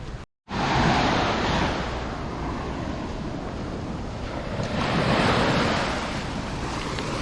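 Ocean surf breaking on a hot beach, a broad continuous wash that swells and recedes, heavy and close, with some wind buffeting the microphone after a brief silence at the start.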